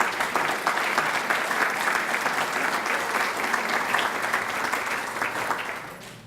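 An audience claps steadily and warmly at an evening volunteer celebration, a sustained, dense round of applause from a seated crowd that fades slightly at the end.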